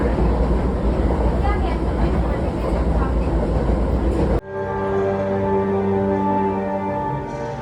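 A public transport train ride in Vienna, steady rumbling rolling noise inside the carriage that cuts abruptly to a smoother, humming tone partway through, continuous and close.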